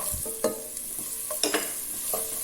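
Onion, ginger and garlic paste frying in a pan for baingan sabzi, with a soft steady sizzle and a few distinct stirring scrapes, close and alone with no talk.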